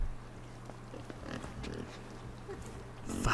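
A pig grunts and oinks in the side-scrolling video game Inside, several short low snorts over a quiet hum, rising to a louder squeal-like burst at the end.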